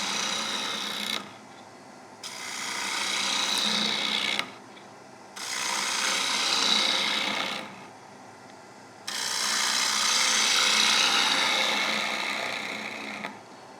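A wood lathe hollows a camphor wood bowl at about 1800 RPM, the tool scraping in three long, steady passes with short pauses between them, close and fairly loud, with no talking.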